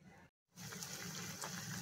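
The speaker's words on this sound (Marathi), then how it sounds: "याच्यामध्ये आपल्याला पाणी टाकायचे आणि मटर शिजवून घ्यायचे" Water pours from a tap into a cooking pot holding cauliflower florets and peas, a close, steady gushing fill that starts after a brief silence and carries on quietly to the end.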